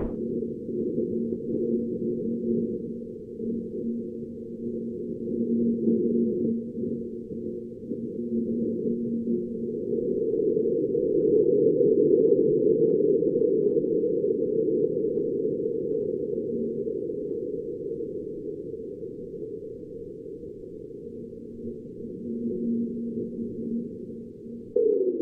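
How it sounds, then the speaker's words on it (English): Marsquake detected by NASA's InSight mission on Mars on April 6, 2019, heard as a steady low rumbling drone with faint tonal hums that swells gradually toward the middle and then eases off, continuous and with no voices. "Marsquake was recorded by NASA's InSight mission on April 6, 2019."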